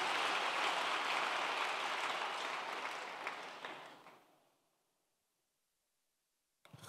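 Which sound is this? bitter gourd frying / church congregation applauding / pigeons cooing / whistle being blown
church congregation applauding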